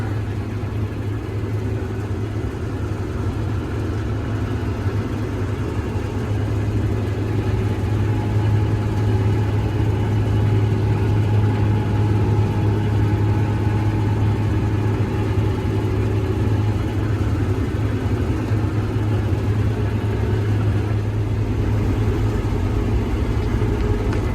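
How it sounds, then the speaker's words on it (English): A combine harvester cutting soybeans in Rockingham County, Virginia, runs with a steady, loud engine drone and a low rumble that holds without letup. "Gotta love cutting soybeans when the wind's behind you."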